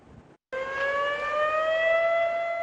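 After a brief silence, civil defense sirens wail at the sea for the November 10 Atatürk memorial, a loud sustained tone that starts abruptly and slowly rises in pitch, steady and unbroken to the end.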